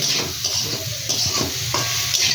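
Fried potato and taro pieces are stirred through a sizzling curry in a pan for a mukhi kochu and prawn dish, with repeated scraping strokes over a constant close frying hiss.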